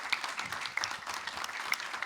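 A conference audience at a shadow economy event claps to welcome Professor Arnis Sauka, a steady wash of many hands lasting about two seconds with no talk over it.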